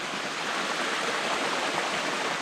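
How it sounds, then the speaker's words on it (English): A small waterfall spills into a creek on rural river flats, a steady, loud, hissing rush of water with no pauses and no other sounds. "I know it's not a massive waterfall, but hey, how many places can you get that actually have a waterfall, you know?"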